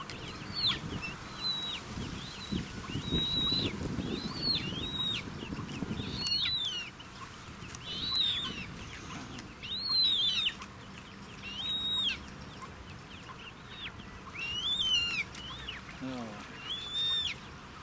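Small miniature ducks in a garden give repeated, rhythmic high calls in bursts, fairly close, with a low rumble of people talking underneath for the first part.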